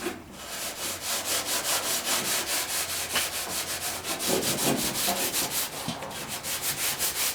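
A Scotch-Brite abrasive pad scrubs paint off the body of a 1959 VW single cab pickup during restoration, with fast, even back-and-forth rubbing strokes that repeat steadily, close and moderately loud.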